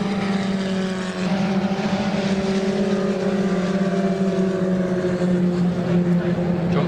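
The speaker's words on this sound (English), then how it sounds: "Great battle between the two very identical cars" Lotus 61 historic Formula Ford race cars battle closely at Donington Park, a steady loud engine drone with harmonics that slowly shift in pitch, continuous through the run as the pair pass.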